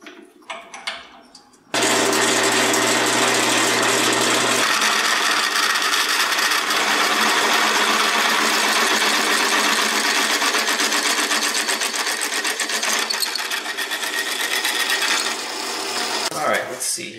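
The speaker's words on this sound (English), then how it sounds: "Let's try out this brand new Milwaukee drill bit." A brand new Milwaukee drill bit bores into metal on an old Tri-Five Chevy, a loud sustained whirring grind that starts abruptly and runs for about fifteen seconds before briefly dropping off.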